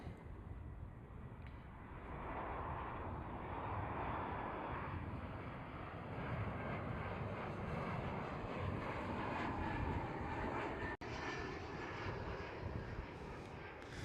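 A KLM Cityhopper Embraer E175 regional jet at Amsterdam Schiphol gives a steady, broad engine roar that holds loud and continuous throughout, with a brief dropout near the end.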